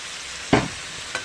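A spoon stirs jackfruit frying in a pan with a full spice mix just added, one clear scraping sizzle burst followed by a fainter second stir, close and alone.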